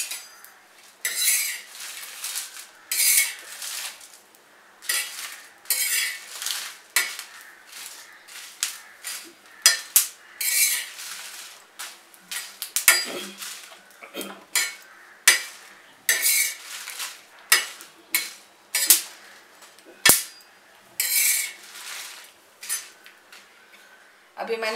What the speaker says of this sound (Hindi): मिर्ची भी ऐसे ही भूननी है, तेल नहीं डालना है इसमें।